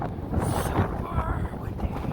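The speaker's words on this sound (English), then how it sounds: "Super windy." Strong gusts blow across an open sandy trail during a Kansas windstorm, roaring and buffeting the microphone steadily at close range for the whole stretch.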